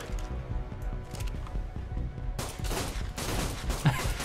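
Rapid gunfire from the video game ARK: Survival Evolved, with steady bursts of shots that grow denser and louder partway through, with no talk over them.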